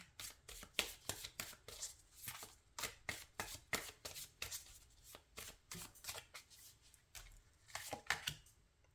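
Tarot cards being shuffled and handled at close range, a rapid run of crisp riffling bursts and flicks in an irregular rhythm, with no talking.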